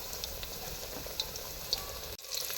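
Spiced besan wadiyan fry in oil with onion, red chilli, cumin and coriander, a soft, even crackle and bubbling close by that cuts off briefly near the end.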